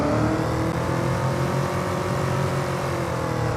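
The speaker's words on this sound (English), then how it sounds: "Oh, just listen to that roar of the engine." A car engine in Farming Simulator 25 roars steadily and loudly for several seconds, a deep sustained drone with a throaty rumble and no talk over it.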